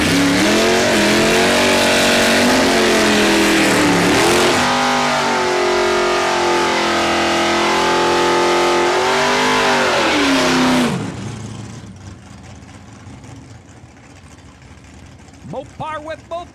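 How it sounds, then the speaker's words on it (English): Drag racing cars at Saskatchewan International Raceway launch and accelerate hard down the track, a loud roaring engine climbing through gear changes for about eleven seconds, then fading into distant track noise. "Gonna lift the front wheels and ride the back wheels, Ken Daly."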